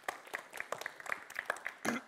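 A small group applauds after the first part of a presentation at an informal talk-and-drinks event, sparse, uneven claps from a few people, fairly faint and close.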